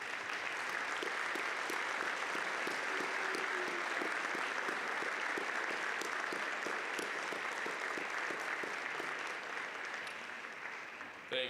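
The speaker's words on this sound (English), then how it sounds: "join in a round of applause for those who are here today to witness your achievement" Audience members at the Millikin University 2024 winter commencement ceremony clap in a long, dense, steady round of applause that tapers off slightly at the end.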